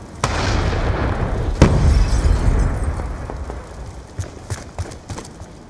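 A frag grenade detonates in the Black Ops 2 video game with a loud, heavy boom that rolls out into a rumbling tail, followed by scattered lighter thumps and footsteps-like taps.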